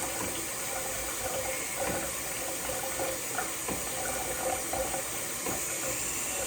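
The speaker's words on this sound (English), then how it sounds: "I always wash my face and my neck" Water running steadily from a sink tap while someone washes their face and neck, a constant close splashing hiss with no talk.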